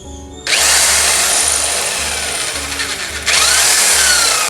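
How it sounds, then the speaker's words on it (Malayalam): A power drill bores a hole for a curtain bracket screw, whining loudly and continuously after a short start, with a brief dip and renewed surge partway through; no talk. "ഹോൾ ചെയ്ത് കൊടുക്കാം"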